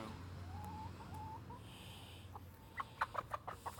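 Faint clucking from a few chickens, quiet at first, then a quick run of rhythmic clucks grows a bit louder near the end.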